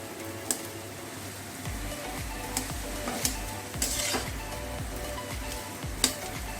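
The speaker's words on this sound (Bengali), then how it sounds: "আলুর সাথে মশলাটাকে 2-3 মিনিট ধরে একটু ভেজে নিতে হবে।" Mashed potato fries with spices in a pan, a soft, quiet sizzle with repeated scraping stirs of a spatula and a few sharp clicks of metal on the pan.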